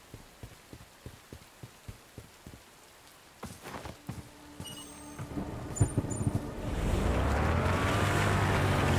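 Rain from a storm falls in the action shooter game Bright Memory: Infinite, starting as sparse ticking drops and then swelling into a loud, continuous wash of downpour.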